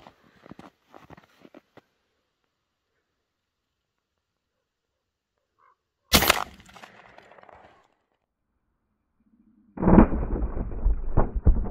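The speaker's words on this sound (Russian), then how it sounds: "Стреляю с правого ствола, целюсь чуть ниже" A single loud shotgun blast from the right barrel of an IZh-43 12-gauge double-barrel, a sharp broadband crack with a short decaying tail. A second loud burst of noise follows a few seconds later, after quiet handling sounds at the start.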